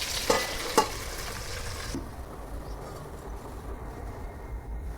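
Indian-style stuffed chili peppers fry in a pan, giving a quiet, steady sizzle with a couple of sharp clicks early on. After about two seconds the hiss drops away to a soft, muffled crackle.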